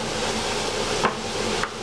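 Butter going into a hot pan where tiger prawns are frying, giving a continuous moderate sizzle with a couple of short scraping clicks from a utensil.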